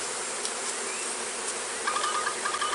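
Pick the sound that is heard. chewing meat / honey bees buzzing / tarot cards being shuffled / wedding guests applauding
honey bees buzzing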